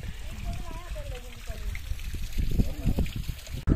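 Drinking water trickles and splashes steadily at a stream on the trek up to Harishchandragad from Khireshwar village, heard close under a person talking.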